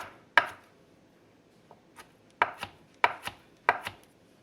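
A knife chops through a piece of steak on a board, giving sharp, close thwacks: one hit, a short pause with a couple of light taps, then a quick run of paired chops.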